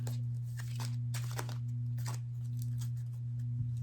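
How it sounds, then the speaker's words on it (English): Pokémon trading cards being shuffled at a tabletop game: soft, crisp riffling and snapping bursts come in quick clusters, close and fairly quiet, over a steady low electrical hum. "So as soon as I'm done shuffling, I will draw 7 cards"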